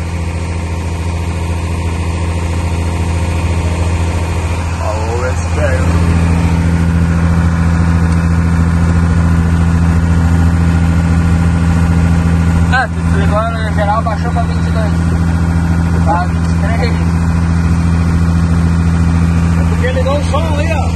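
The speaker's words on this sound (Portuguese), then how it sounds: "Liga a moto, liga tudo." A motorcycle engine idles steadily with a low, constant hum throughout, loud and close, while voices occasionally talk over it.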